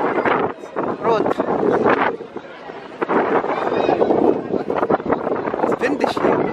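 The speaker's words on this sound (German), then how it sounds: "It's windig hier." Gusty wind buffets the microphone in a steady roar at an outdoor Christmas market in Bremen, Germany, with people talking underneath.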